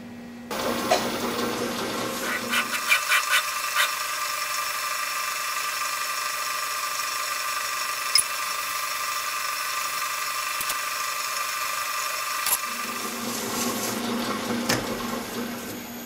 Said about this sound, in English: We will give it a rub with some fine emery cloth to polish the surface